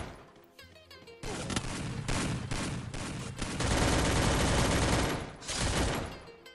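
Gunfire from a Free Fire battle royale match, a shotgun among it: dense, loud bursts of shots and rapid volleys that crowd together into near-continuous firing, then stop briefly and flare up again.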